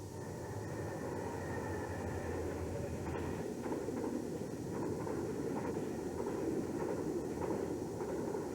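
Santa Fe freight train working up a steady mountain grade near Delhi, Colorado, a continuous low engine rumble and rolling rail noise heard from a distance, with wind buffeting the microphone and no talk.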